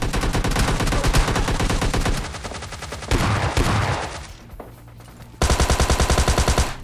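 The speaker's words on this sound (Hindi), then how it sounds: "अब भाई साहब की निकलती है गोली" Machine gun gunfire in the video game PUBG Lite, with loud, close, rapid automatic bursts, a brief quieter lull, then another sustained rattling volley.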